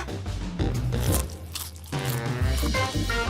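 Crunchy popcorn bitten and chewed right at the mouth, a string of crisp, loud crunches in uneven bursts with brief pauses between bites.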